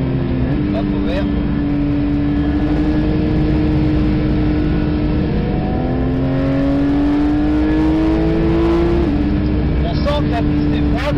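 Porsche 992 GT3 on a track day, engine note rising steadily through long pulls with brief drops at upshifts, loud and close, continuous throughout.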